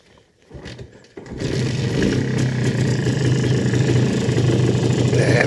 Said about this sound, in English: let's do the old MZ style startup